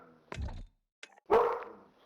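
A dog in the Call of Duty video game gives a couple of sharp barks, the first lower and chesty, the last louder and drawn out with a whining edge, with short silences between.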